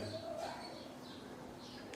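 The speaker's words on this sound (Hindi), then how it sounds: "बाहर जो छोटी छोटी चिड़िया बोल रही हैं" Small birds chirp outdoors in short, faint calls scattered through a quiet background, with a soft coo-like note early on.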